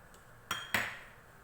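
Sugar melting in a pan over medium heat with a pinch of yellow food colour, stirred with a utensil: two sharp metallic clinks against the pan, followed by a quiet lingering ring and faint background noise.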